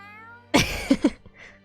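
A cat meows in the video game Tales of Arise: a single loud, close meow followed by a couple of short, softer mewing chirps over a quiet tonal game background.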